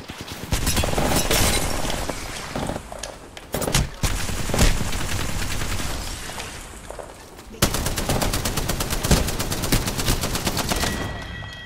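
Apex Legends gunfire: repeated loud volleys of automatic weapon fire with scattered single shots and impacts, ending in a long, steady, rapid burst of evenly spaced rounds, close and continuous.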